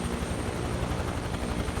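A helicopter in Microsoft Flight Simulator gives off a continuous, fairly loud rotor and engine drone with a faint high whine, steady and close, with no voices over it.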